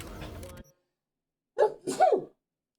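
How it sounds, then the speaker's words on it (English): A man sneezes once, a sharp two-part burst of breath and voice close up, following a brief stretch of background game sound and a pause of silence. "I feel like I'm gonna sneeze"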